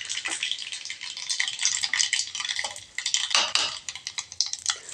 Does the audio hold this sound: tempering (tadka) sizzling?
yes